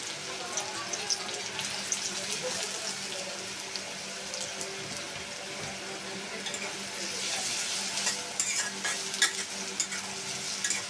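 Chopped onions frying in hot oil for a hilsa fish dish, with a steady close sizzle and crackle throughout, stirring scrapes and a brief faint voice in the background.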